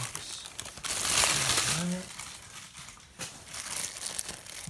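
Plastic bag packaging crinkles and crackles close up while a product is unboxed, the rustling coming in bursts over about five seconds with some faint background voice.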